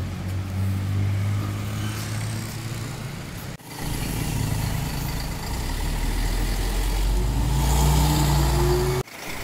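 Busy roadside traffic outside the Giant Ibis bus office in Bangkok: loud, close rumbling car and truck engines idle and pass continuously, with one brief dip midway.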